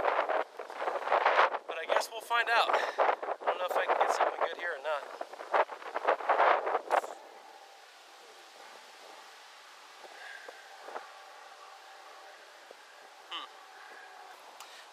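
Strong wind buffets the microphone beside a lake, with someone speaking over the first half before the gusty rumble carries on alone, steady and close with a few brief rustles.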